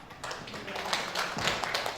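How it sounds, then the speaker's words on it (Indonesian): An audience gives brief applause after a poetry reading at a school poetry-writing workshop, faint, scattered claps building over about two seconds. "Tepuk tangan untuk Ibu Wahyuni dari SMP Sedayu membacakan puisinya"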